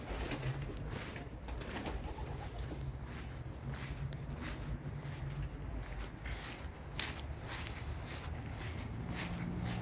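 Pigeons in a large racing pigeon loft, with a steady bed of soft low cooing and rustling running throughout at close range, no talk.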